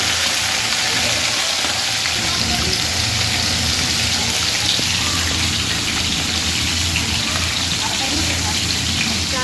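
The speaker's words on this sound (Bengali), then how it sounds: "কি জোরে জোরে আকাশ ডাকছে গো বাবা বর্ষাকালের মতো পুরো" Heavy monsoon-like rain pours in a dense, unbroken hiss that stays loud and steady throughout, with no distinct thunderclaps standing out.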